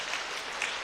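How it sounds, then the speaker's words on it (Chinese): Brief, fairly faint applause from a church congregation at a Sunday service welcoming guests, a soft wash of clapping with no speech over it. "拍手"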